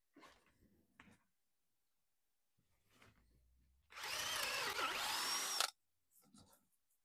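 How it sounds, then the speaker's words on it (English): A power drill with a drill bit sharpened to 3000 grit bores through wood in one loud, steady burst of nearly two seconds, set between quieter handling noises and short pauses. "Put it in the drill and let's see how quick it goes through."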